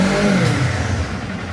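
A 2024 Kawasaki Z500 SE motorcycle engine revs briefly and loudly up close, a short throaty burst that settles back within about a second and a half.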